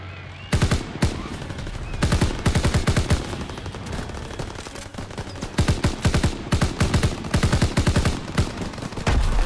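Dense bursts of automatic gunfire from a World War II shooter game, rapid strings of loud shots broken by brief pauses, continuing almost throughout without speech.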